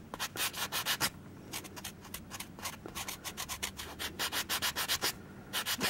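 Frosting decoration on a small rainbow unicorn cake for dolls is smoothed down with quick, close rubbing and scraping strokes. The strokes come in fast rhythmic bursts with a few short gaps, and there is no talking.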